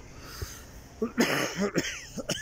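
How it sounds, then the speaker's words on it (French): Several rough coughs in a row, close and fairly loud, with a short pause before the last one or two. "Ça me fait tousser."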